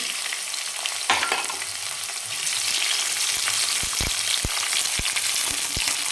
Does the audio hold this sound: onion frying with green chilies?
yes